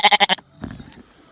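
A sheep on a farm bleats loudly and close, one wavering call of rapid pulses at the start, followed by faint farm background noise.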